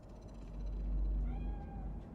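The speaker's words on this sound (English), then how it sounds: "Fine looking feline." A single cat in the video game's Night City gives a short, soft meow over a low background hum, with no speech.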